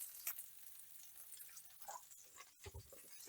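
Onions sizzle and crackle with meat in hot lard and oil at low volume, with a few soft stirring scrapes.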